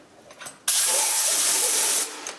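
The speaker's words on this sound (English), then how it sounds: "I'm going to start spraying the underside. I put the 90-degree tip to spray up on here." A sprayer fitted with a 90-degree tip blasts LizardSkin sound-deadening coating onto the underside of a Ford Bronco, a loud, steady hiss that starts abruptly and holds for over a second before cutting off.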